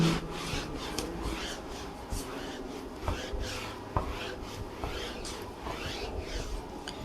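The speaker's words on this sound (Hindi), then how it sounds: "तो इसे मैं रब करता हूं।" A duster rubs writing off a classroom board during a Class 12 maths lesson, giving a continuous close, scratchy swishing of strokes back and forth with small knocks, and no voices.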